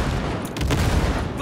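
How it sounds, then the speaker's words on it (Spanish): Dense gunfire and explosions in the Cyberpunk 2077 video game, a continuous loud barrage of shots and blasts filling the whole moment without a break. "Bombardeo."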